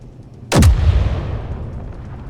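A gun emplacement blows up in Space Engineers with one sudden loud blast that falls in pitch, then a low rumbling tail that lingers and slowly fades.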